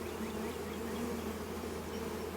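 Honey bees buzzing around an open hive on a hot day, a dense steady drone close by with no talk.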